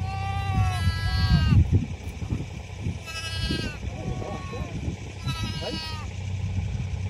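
Sheep and lambs bleat repeatedly during lambing on a Peak District farm, with several wavering calls near and loud over a steady low rumble of background noise.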